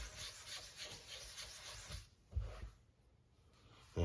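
A wood chisel is sharpened on a sharpening stone lubricated with WD-40, making quiet rhythmic rubbing and scraping strokes up close. The strokes are followed by a short pause and then a soft knock.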